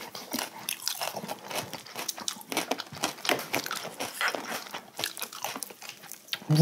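Close, crisp crunching and chewing of pickled chicken radish during a roasted chicken and beer meal, with repeated irregular bites at a soft volume.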